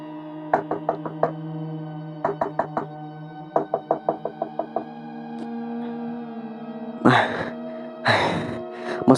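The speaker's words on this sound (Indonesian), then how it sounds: "Dengan panik dan gugup, Ningsih menggedor-gedor pintu rumah Wati yang kebetulan langsung dibukakan oleh Wati sendiri." Someone pounds frantically on a house door in three rapid clusters of sharp knocks, loud and close, followed by two harsh, noisy bursts.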